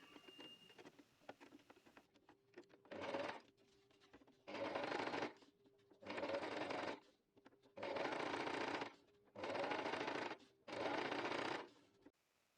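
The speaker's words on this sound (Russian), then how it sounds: "И теперь уже пришить это все надо на машинке." A sewing machine stitches a bag strap in six bursts of rapid, steady whirring and clattering, each lasting one to two seconds with short quiet pauses between, close and moderately loud.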